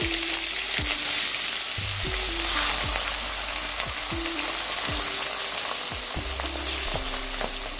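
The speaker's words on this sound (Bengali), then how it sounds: "বাকি মাছগুলোকেও আমি একইভাবে ভেজে নেব।" Fish frying in hot oil, a dense, loud crackling sizzle that runs steadily throughout, with periodic low hum tones in the background and no voices.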